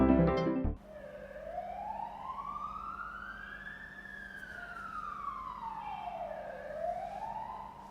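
An emergency vehicle siren wails through traffic, a single slow rising and falling tone that sweeps up and down across the whole stretch, fairly close and steady, after a brief burst of louder noise at the very start.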